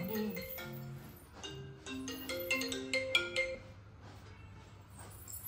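A melodic phone ringtone plays its looping tune for several seconds, fairly close, with faint background noise.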